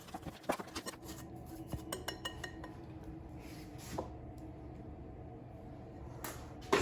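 Muffin batter with baking powder being stirred in a bowl, the utensil clinking and scraping against the sides in a steady run of small taps and knocks, fairly quiet, with a louder clatter at the end.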